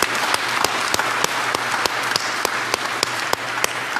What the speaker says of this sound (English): A round of applause for our couples.